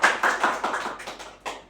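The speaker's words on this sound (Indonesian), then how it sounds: "tepuk tangan untuk Ayu Rahma dan Cahya" Classroom applause for two students, Ayu Rahma and Cahya, rising in a quick burst of scattered hand claps that fade out, with one final clap near the end.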